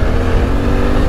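Steady engine drone of a 2023 Suzuki V-Strom 800 motorcycle, a loud continuous rumble held close for a moment with no voices over it.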